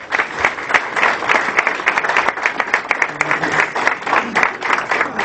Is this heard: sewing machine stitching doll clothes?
no